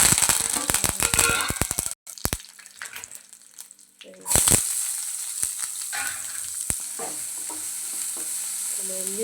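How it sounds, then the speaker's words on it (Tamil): Mustard seeds and cumin frying in a hot pan, with sharp crackles and pops in a dense early burst, then a scattered sizzle with occasional louder pops and clatters over a steady background hiss. "நம்ம கடுகு வெடிச்சிருச்சு."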